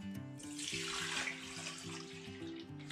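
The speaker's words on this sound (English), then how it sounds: "Let's begin by pouring the warm milk." Warm milk pours into a mixing bowl for honey milk bun dough, a steady close liquid stream running for about three seconds with no talk.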